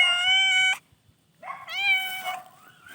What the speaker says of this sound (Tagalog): Ang daming pusa, oh.